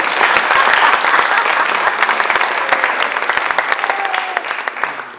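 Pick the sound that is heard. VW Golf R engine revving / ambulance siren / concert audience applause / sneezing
concert audience applause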